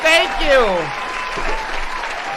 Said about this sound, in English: I deserve all the applause.